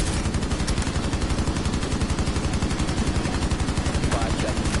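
Rapid, sustained automatic gunfire from a tactical video game bomb-transfer match, a dense, steady stream of close, loud shots with faint voices underneath.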